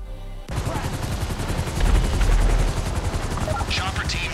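A helicopter in GTA Online's Humane Labs raid keeps up a steady rotor thrum, with rapid bursts of gunfire crackling over it throughout.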